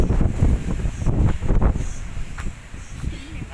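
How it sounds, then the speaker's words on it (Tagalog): Strong wind buffets the microphone with heavy, gusty rumbling, and a voice is heard faintly beneath the roar. "ang lakas ng hangin"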